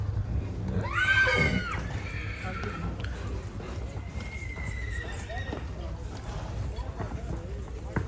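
Horse hooves clip-clop steadily while a horse whinnies loudly near the start, with people talking nearby over the outdoor background at a horse gathering.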